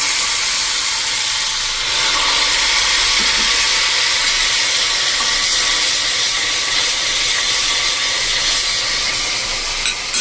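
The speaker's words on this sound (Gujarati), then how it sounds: "30 સેકન્ડ જેવો આપણે ઉકાળી લેશું, એટલે એનું મોઇશ્ચર બધું પાણી હોય બળી જાય" Onion juice boils in a pan with a loud, continuous steamy hiss that holds steady from start to finish.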